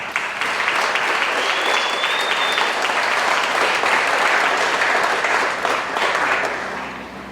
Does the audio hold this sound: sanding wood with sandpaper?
no